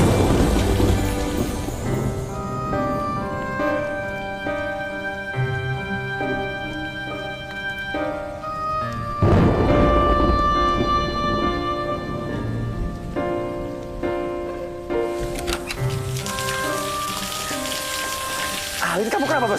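Heavy rain pours down steadily throughout, a dense constant hiss under a drama scene with music and occasional voices.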